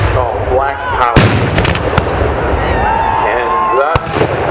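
A black powder cannon fires at an 1812-era battle reenactment, sending sharp booming blasts across the field that stand out over a crowd and a talking voice.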